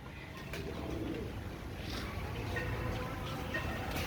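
A pair of Royal Teddy pigeons coos softly at close range, giving repeated low, throaty calls over a faint background hiss, with a few brief clicks and rustles, and no one talking.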